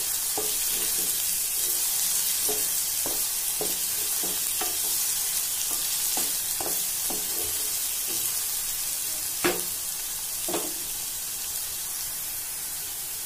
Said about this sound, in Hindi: प्याज को हम अच्छे से ब्राउन होने तक भूनेंगे